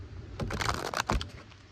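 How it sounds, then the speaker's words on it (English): A quick flurry of riffling card clicks, a tarot-style deck being shuffled close by in one short burst. "Let's shuffle your deck"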